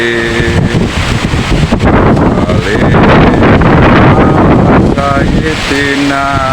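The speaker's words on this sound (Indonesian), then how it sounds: "Anginnya kencang teman-teman." Strong gusting wind battering the microphone in Klaten during a windstorm, a loud continuous roar with buffeting, broken by brief tonal sounds that may be a distant voice or chant.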